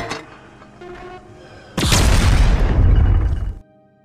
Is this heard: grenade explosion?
yes